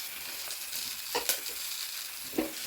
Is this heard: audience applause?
no